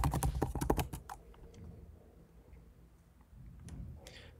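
Someone typing a password on a computer keyboard: a quick burst of close, crisp key clicks at the start, then quieter scattered taps against a low room hum, with a faint final tap near the end.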